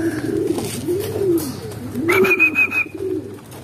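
Pigeons coo at close range in repeated rising-and-falling calls, a few overlapping, with faint background noise and no talking.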